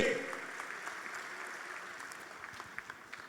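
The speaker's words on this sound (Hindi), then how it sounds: "आपकी जोरदार तालियां होनी चाहिए।" Audience applause at a Hindi-language cultural ceremony marking Indian New Year, as honourees are felicitated on stage; steady, moderately distant clapping fills the whole stretch with scattered sharper claps near the end.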